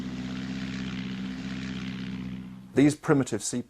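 A steady propeller aircraft engine drones at a constant pitch, then a voice begins speaking over it near the end.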